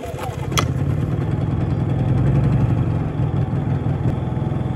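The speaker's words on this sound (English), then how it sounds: "Now this does have an eco throttle, so you can see it just idles down nicely, only throttles up when it needs more power." A portable emergency generator with an eco throttle runs at a steady idle, a close, loud, even engine drone with a faint click near the start and someone talking over it.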